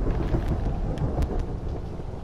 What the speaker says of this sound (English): Zeus! God of Thunder!